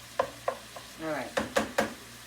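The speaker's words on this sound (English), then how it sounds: "Let this saute a little bit." Food sauteing in a pan: a utensil taps and scrapes the pan in several sharp, quiet strokes, with a soft sizzle swelling briefly between them.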